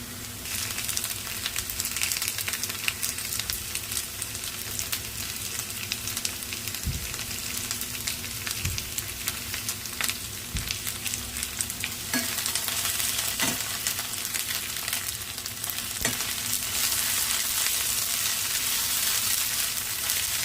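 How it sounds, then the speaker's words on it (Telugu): Onions and a spoonful of ginger fry in a pan for egg bhurji, a steady close sizzle broken by scattered clicks and taps of a stirring spoon against the pan, with no talking. "ఉల్లిపాయలు అయితే వేగినాయి. ఇలా 1 స్పూన్ అల్లం వేసుకున్నాం"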